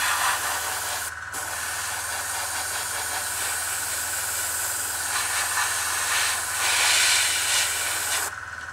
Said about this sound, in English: I think I need to get a new compressor. That one's starting to sound a bit janky.